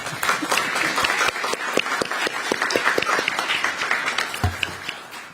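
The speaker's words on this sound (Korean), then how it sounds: "우리 한번 이, 이, 이 의견 주신 분께 한번 박수 한번 쳐드릴게요" An audience at a ministerial gathering on space and aerospace budgets breaks into brisk applause, many distinct claps close by forming a lively, uneven patter that holds for several seconds with no speech over it.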